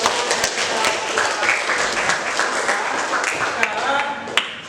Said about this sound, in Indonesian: Beri aplaus ya.